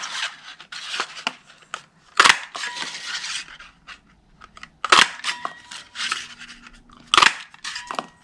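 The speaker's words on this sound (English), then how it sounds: "we're going to use the cloud punch. And I'm going to punch 3 of these out" A hand paper punch cutting three cloud shapes from white cardstock, heard as a series of sharp, close clicks and crunches spaced a few seconds apart amid quieter rustling of paper.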